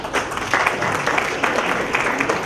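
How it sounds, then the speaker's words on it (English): A round of applause from the audience at an MBA achievers summit, a dense, even burst of clapping that holds steady throughout. "So round of applause for Rishabh."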